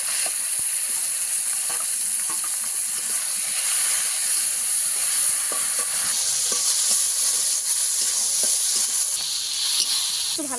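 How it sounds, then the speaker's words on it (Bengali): Chopped tomatoes and grated ginger fry for dal, a steady loud sizzle and hiss running throughout with occasional stirring scrapes and clicks, no voices. "একটু ভালো করে ভেজে নেব।"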